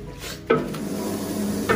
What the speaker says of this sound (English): Karim, please stir it